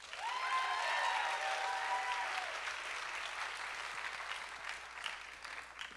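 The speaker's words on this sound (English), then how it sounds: "How about a round of applause for our MCs?" Applause at a college athletics awards show swells early, a broad crowd of clapping that holds strong for a couple of seconds and then gradually thins and fades, with faint whooping near the start.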